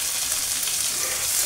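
Tomato added to onions frying in oil for a Bengali egg tarka, a dense, even hiss of sizzling close up that holds steady throughout, with no talk.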